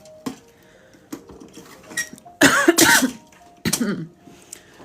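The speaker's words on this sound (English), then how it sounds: "Sorry for the coughing, you guys." A few harsh coughs burst out in quick succession, loud and close, with quieter clinks and movement sounds between them.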